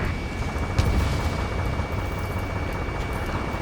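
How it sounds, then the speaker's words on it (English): Gunfire and the roar of jets in a city under martial law in the Ace Combat 7 video game: a dense, steady rumbling wash with one sharp burst early on, continuous throughout. "gunfire and the roar of jets echoing through the streets"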